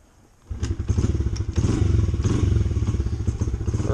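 A Honda XR70 with an 88cc BBR kit, cold and on choke after carburetor re-jetting, catches with a kick and settles into a loud, close, fast-pulsing single-cylinder idle with some mechanical clatter.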